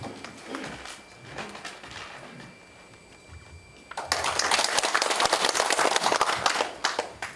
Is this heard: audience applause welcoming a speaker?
yes